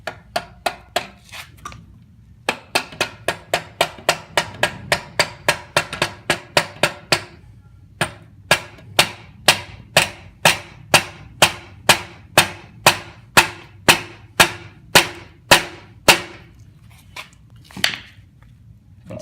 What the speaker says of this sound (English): just give this bad boy a little tappy tap.